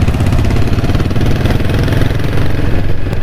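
A 2023 TVS Apache 160 4V motorcycle engine runs steadily while riding, a loud, close, continuous throbbing drone with no pauses and no voices.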